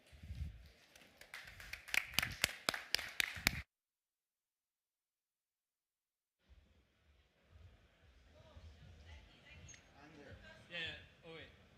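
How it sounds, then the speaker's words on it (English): Applause welcoming a panel at a summit stage, a short burst of loud individual claps over the first few seconds, then silence, followed by quieter murmuring and talk. "So welcome, and a grand applause for this group."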